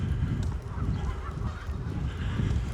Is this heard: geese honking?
yes